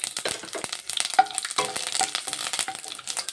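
Curry leaves crackle and spit in hot oil in a pan, with sharp popping bursts and stirring scrapes close by and no speech.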